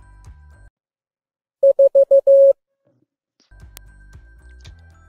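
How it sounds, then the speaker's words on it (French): A Morse code tone sounds the digit 4: four short beeps followed by one longer beep, clean and loud against silence. "Le chiffre 4 qui a pour code morse 4 sons brefs suivi d'un son long."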